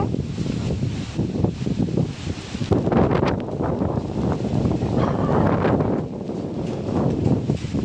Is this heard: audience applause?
no